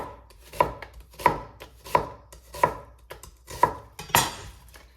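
A knife chopping onions on a cutting board, six sharp evenly spaced thuds roughly every two-thirds of a second, close and clear with nothing else heard.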